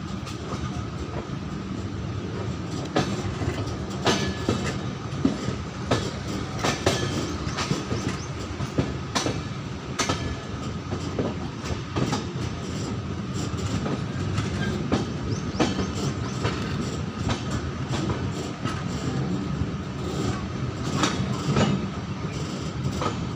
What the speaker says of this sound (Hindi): हमारी ट्रेन डिपार्चर हो चुकी है